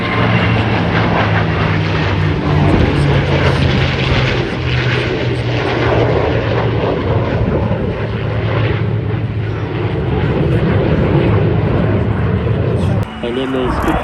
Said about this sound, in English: We have the Mustang, the Spitfire, the Super Hornet, and the F-35 in formation together.